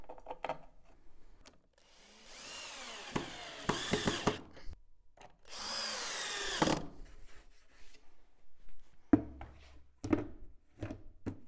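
A power drill drives screws to fasten wooden boards for a paint filter cabinet, with two bursts of rising, whirring drilling separated by clicks, knocks and handling noises of wood close by.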